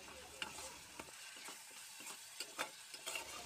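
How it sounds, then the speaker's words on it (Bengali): Mango paste frying and sizzling with ground spices in a pan, stirred by hand. A steady hiss runs through the clip, with repeated scraping strokes of the spatula. No one speaks. "দিয়ে মশলাগুলোর সঙ্গে একটু কষিয়ে নিচ্ছি।"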